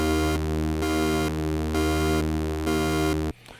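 A buzzy pulse-wave synth tone from the Dune 2 software synth, modulated by its LFO, pulses on and off in a steady rhythmic pattern, switching sharply between two tonal states about twice a second, then cuts out.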